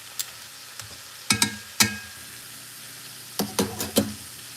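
Beef neck bones sear in a pan with soft sizzling and a scattering of sharp scraping, stirring clicks in small clusters, close and otherwise quiet.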